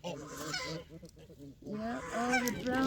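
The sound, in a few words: domestic geese honking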